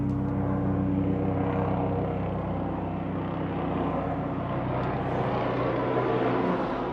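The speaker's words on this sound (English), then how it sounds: "The helicopter just flew directly over top, so a little bit loud for a second there." A loud, steady engine and rotor roar hangs close overhead for several seconds, droning without a break.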